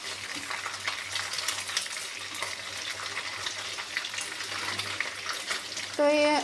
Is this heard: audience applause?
no